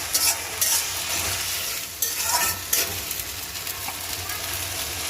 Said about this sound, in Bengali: এই যে আদা রসুন দিয়ে দিলাম।